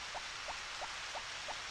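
Rain falling in the farming game Harvest Moon: Back to Nature, a soft even hiss with a faint repeating light tick about every third of a second, quiet and steady throughout.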